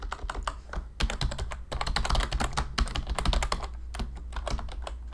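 Rapid, steady typing on a computer keyboard enters a new folder name in Windows, a dense run of close, crisp keystrokes with brief gaps, with no voices.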